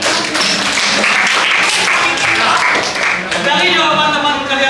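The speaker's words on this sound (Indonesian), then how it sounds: "Oke, tepuk tangan." Students clapping their hands together in a classroom, a dense, steady burst of applause lasting several seconds with a brief dip near the end, with children's voices mixed in.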